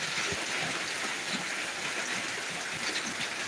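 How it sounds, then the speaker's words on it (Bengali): Torrential rain pouring in Dinajpur, a steady dense hiss of downpour filling the whole scene, constant and unbroken, with no voices. "এই মুহূর্তে এই মুসলধারে বৃষ্টি শুরু হয়েছে মুসলধারে বৃষ্টি হচ্ছে"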